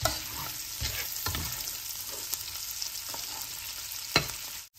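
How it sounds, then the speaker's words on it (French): Onions frying in oil in a pan after lardons were cooked in it, a constant close sizzle broken by a few stirring scrapes, with no one speaking. "Dans le même huile, j'ai mis les oignons."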